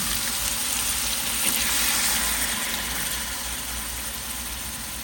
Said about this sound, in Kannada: ಈರುಳ್ಳಿ ಟೊಮೊಟೊ ಇರೋ ತಳ ಹಿಡಿಬಾರ್ದು ಅಂತ ಆಗಾಗ ಸ್ವಲ್ಪ ಬಿಸಿನೀರನ್ನು ಹಾಕೋಣ